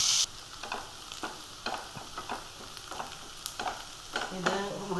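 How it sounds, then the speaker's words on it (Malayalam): Two sliced onions are stirred and sautéed in a hot pan, a low sizzle broken by regular scraping strokes of a spoon roughly every half second, close by. "സവോള ഇട്ട് അതൊന്ന് അതിൻ്റെ പച്ച ഇത് മാറുന്ന വരെ ഇളക്കി ഒന്ന് വാട്ടിയെടുക്കുക"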